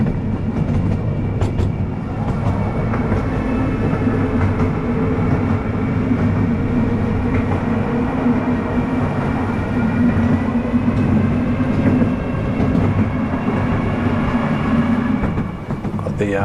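Miniature train on the Diamond Valley Railway rumbling steadily through a track junction, with continuous low wheel and rail rumble and faint clickety-clack from joints, loud and close throughout.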